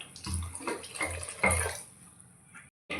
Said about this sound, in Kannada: ಸ್ವಲ್ಪ ನೀರು ಹಾಕ್ಕೊಳ್ಳೋಣ.